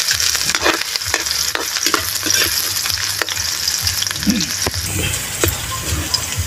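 Garlic fries in a pan for sautéed pork offal, a loud, dense sizzle running continuously with scattered crackles and the scrape of stirring close by.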